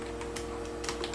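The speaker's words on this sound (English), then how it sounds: "go into terminal, and type in sudo" Typing a terminal command on a computer keyboard while setting up an Orange Pi PC with Armbian, a few quick soft key clicks close by over a steady hum.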